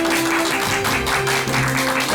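Steady, dense applause fills the room without a break, with a faint musical tone running beneath it, as a studio audience welcomes guest speaker Professor Kim Kyung-ho of Myongji University to a lecture show.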